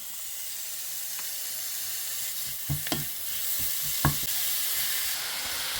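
A spatula scrapes and stirs cabbage in a hot frying pan, with a steady sizzle underneath and a few louder clacks and scrapes.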